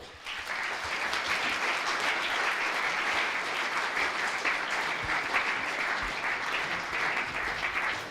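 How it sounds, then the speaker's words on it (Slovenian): A hall audience at a school celebration gives warm, steady applause to welcome high school students, the clapping sustained and even for several seconds with no talk. "Ponovno jih pozdravimo z aplavzom."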